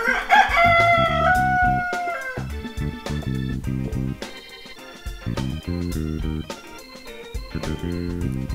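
A rooster crows once, long and loud, at the opening, followed by upbeat background music.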